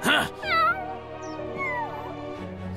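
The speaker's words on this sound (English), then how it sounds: "Can you believe how bad he's tormenting Mary's poor little kitten?" Cartoon kitten meowing in a children's animated show, several high, wavering mews in quick succession, close and clear over a soft music bed.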